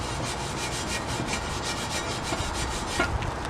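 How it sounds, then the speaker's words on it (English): A Scotch-Brite pad soaked with WD-40 scrubs powder coat off a Honda Ruckus metal frame, making a loud, continuous rasping rub with rapid back-and-forth strokes up close and no voices. "I just feel like the WD-40, you know, keeps the Scotch-Brite moving nicely on the metal."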